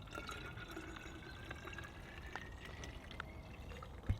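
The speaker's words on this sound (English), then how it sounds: "scoop up some more water in the bag" Water is scooped and poured into a water collection bag outdoors in the rain. A soft, continuous trickle and slosh of liquid runs throughout, fairly faint and close, with no talk.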